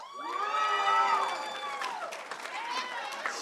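A crowd whoops and cheers with scattered applause at a lineworker academy graduation ceremony, loud and close, with a voice rising over the noise before the cheering settles.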